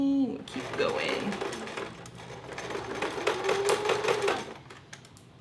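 A sewing machine runs in a steady burst of rapid stitching through fabric for Minnie Mouse ears, its mechanical whir going for several seconds before stopping, with quiet speech around it.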